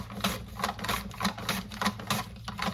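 Thin slicing of washed, cored fruit with a knife for drying, heard as a steady run of quiet, regular cutting taps on a board, about two or three per second, close and alone with no talk.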